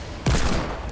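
A gunshot in the Fortnite video game, during a GTA-style mode, cracks out as a sudden loud burst that rings briefly before fading.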